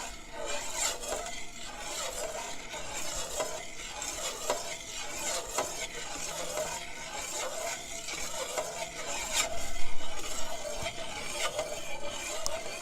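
Carrot juice is stirred with a whole container of condensed milk for Jamaican carrot juice, a spoon clinking and scraping in a steady, close rhythm with a brief louder swirl near the end and no talk.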